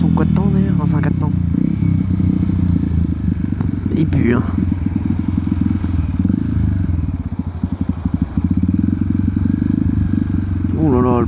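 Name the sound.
small four-stroke scooter engine outside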